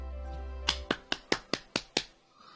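A clapping sound effect from the visual novel game LoveKami plays as seven sharp, evenly spaced claps in quick succession, crisp and close, after a low background hum cuts out.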